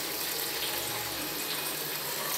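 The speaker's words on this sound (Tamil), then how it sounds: "நெக்ஸ்ட் என்ன பார்க்க போனால் கொஞ்சம் தண்ணி உள்ளே ஊற்ற போகிறோம்." Water pours into a fish tank in a continuous, close gushing splash with a low rumble beneath and no speech.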